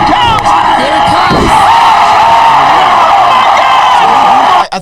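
Sustained applause sound effect with cheering and whoops, loud and steady throughout, cutting off abruptly at the very end.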